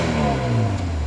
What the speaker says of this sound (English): we got a little bit of sound there off that awesome little 2-liter turbocharged 4-cylinder